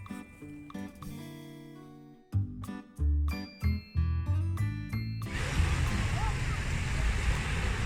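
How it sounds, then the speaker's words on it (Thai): Wind and surf rolling onto the shore at Bangsaen beach on the Gulf of Thailand, a steady broad roar that takes over for the last few seconds after a stretch of jingling music with deep beats. "ชมเสียงลมเสียงคลื่นกระทบฝั่ง"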